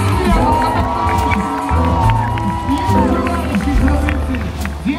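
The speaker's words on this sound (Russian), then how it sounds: "аплодисменты!" Crowd at an Aero-Extreme air show cheering, whooping and clapping in a loud, continuous outdoor roar, with shouts and voices mixed throughout.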